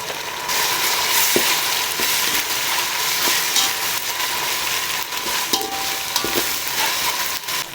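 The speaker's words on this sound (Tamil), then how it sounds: "வெங்காயம் நல்லா இந்த அளவு வதங்கினோன்னே நம்ம வந்து இஞ்சி பூண்டு சேர்த்துக்கலாம்" Onions frying in a pan with ginger and garlic for mutton biryani, a loud, continuous sizzle close up, with scrapes and clinks from stirring now and then.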